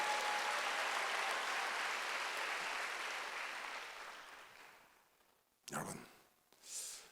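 A church congregation at a Korean Wednesday worship service applauds in a dense, sustained burst that gradually fades out, followed by a couple of brief, sharp noises.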